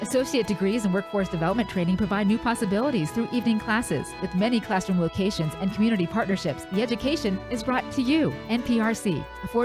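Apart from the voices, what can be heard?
No distinct noise like a dog, phone or traffic.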